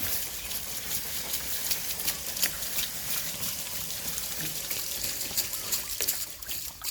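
Water from a solar-powered pump pours steadily out of a full one-inch pipe, a continuous close splashing trickle with no break.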